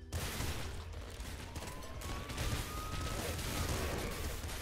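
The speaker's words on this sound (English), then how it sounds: "That guy fired a lot of shots at me there." Enemies in the Nuclear Throne video game fire a dense, continuous barrage of gunfire and impacts that packs the whole stretch at a steady level, with a thin whistling tone sliding through it.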